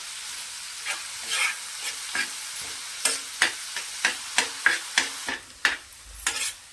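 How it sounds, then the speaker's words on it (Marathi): Onions frying with salt on an iron tawa, dhaba-style, with a soft sizzle beneath a series of sharp scraping spatula strokes that grow more frequent toward the end. "आता कांदा वाजत असताना यामध्ये मीठ घालून घेऊया"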